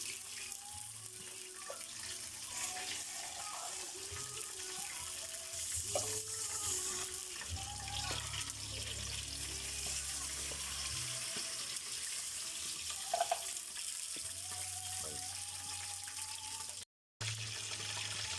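Water pours into a cooking pot of coconut milk while preparing ginataang snails, a steady close trickle and splash with faint sizzling and kitchen clatter.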